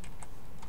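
Keys clatter on a computer keyboard as a terminal command is entered on an Ubuntu Linux machine, a quick run of close, crisp clicks with no voices.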